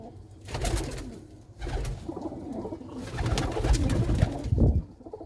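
Pigeons of prized breeds at a house in Manuke Gill village, Punjab, coo in soft, throaty repeated bursts, near and clear, with several birds calling in overlapping waves.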